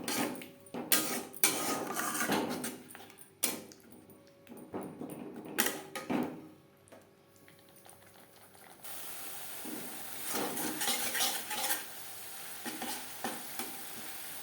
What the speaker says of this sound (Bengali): তিন চার মিনিট মিডিয়াম টু লো ফ্লেমে মশলা কষিয়ে নেব।